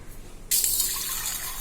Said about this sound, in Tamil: புளி கரைக்கிறதுக்கு தண்ணி விட்டுறலாங்க.